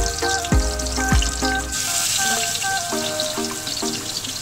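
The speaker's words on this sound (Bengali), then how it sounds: "এটাতে রোস্টটা ভাজবো" Pieces of native chicken roast sizzle in hot oil with a broad hissing fry, partly masked early on by separate ringing tonal sounds with falling pitches.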